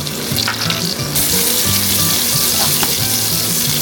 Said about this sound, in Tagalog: Tapos igisa lang natin ito hanggang sa lumambot yung ating onion.